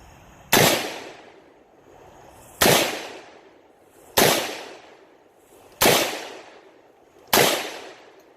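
Five 7.62 rifle shots fired outdoors with an FH4-AK flash hider on the muzzle, each a sharp, loud crack followed by a decaying echo, evenly spaced about one and a half seconds apart.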